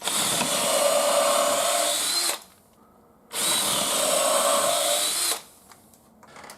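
A power drill with a 3/8 inch bit bores pilot holes for a garage ceiling storage lift, two loud sustained whining runs of about two seconds each separated by a short pause.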